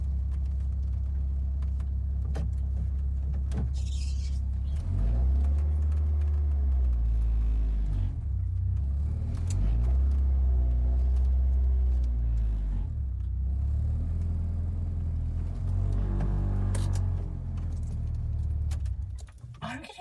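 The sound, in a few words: 36-year-old French car engine running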